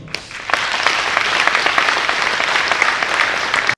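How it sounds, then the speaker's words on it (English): An audience claps at a graduation ceremony for Senior Executive Course 45 at Nigeria's National Institute for Policy and Strategic Studies. The applause is loud, dense and continuous from a seated crowd. "Please appreciate members of Senior Executive Course 45 with their sounding applause."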